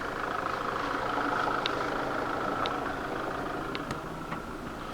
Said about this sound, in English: I'm going to get back in the tractor.